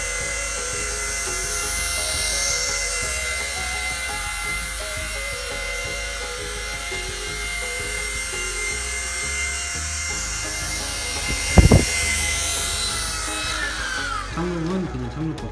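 A small RC helicopter that leans slightly to one side hovers nearby with a steady high-pitched whine of rotor and motor, joined by a brief sharp knock near the end.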